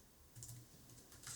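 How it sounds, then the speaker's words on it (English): Quiet, quick keystrokes on the small keyboard of a 7-inch One Mix 2S Yoga convertible laptop, a short burst of light clicking taps heard alone and close. "with this tiny keyboard, typing is not necessarily always going to be the most pleasant experience"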